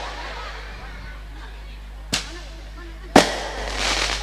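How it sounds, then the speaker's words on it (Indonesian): Firecrackers go off in two sharp, loud cracks about a second apart against a low steady hum, the second bang followed by a brief crackling tail. "masih ada petasan"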